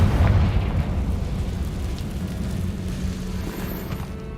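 A Confringo blasting spell going off in Hogwarts Legacy, a deep rumbling boom that hits hard at first and then fades into a long, low roar.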